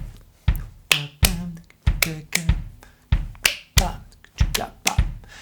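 Sharp hand claps ring out in an uneven, syncopated pattern, accents falling between the beats, about a dozen crisp strikes spaced irregularly, close and clear.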